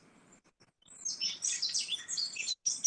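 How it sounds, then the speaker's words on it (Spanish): A small bird chirps in quick, bright bursts recorded outdoors, starting faintly and becoming fairly clear, heard alone against a quiet background hiss. "Entonces ahí empezó a sonar el pajarito."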